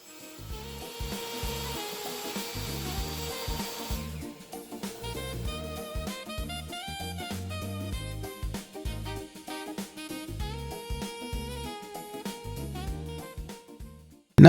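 Wood saw cutting through the top of a glued-up fence picket panel, a steady rasping cut with rhythmic strokes running throughout, close and fairly loud, with no talking.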